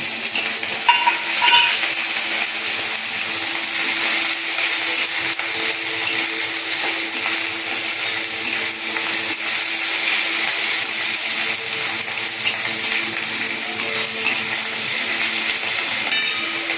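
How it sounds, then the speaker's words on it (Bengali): Ginger garlic paste sizzles steadily in hot oil in a home kitchen while Bengali stuffed pointed gourd is cooked, a continuous close hiss with occasional stirring scrapes and no talk. "তেলটা আমার ভাজা ভাজা হয়ে গেছে, এরপর আমি আদা বাটা দিয়ে দিচ্ছি"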